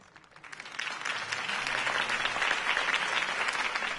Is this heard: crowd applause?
yes